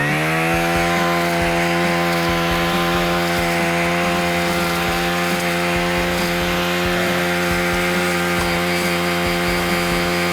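A brush cutter with its blade against a thumb-thick acacia tree, its small engine roaring loud and steady at high revs throughout, close up with no talking.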